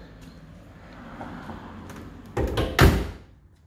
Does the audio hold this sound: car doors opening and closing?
yes